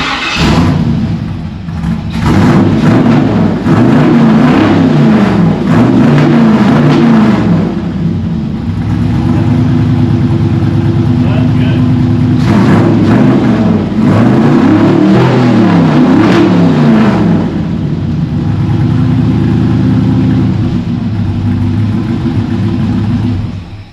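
A 1957 Chevy V8 engine revs loudly in repeated surges, drops back to a rumbling idle between bursts, then revs hard again, all close by and with no talk.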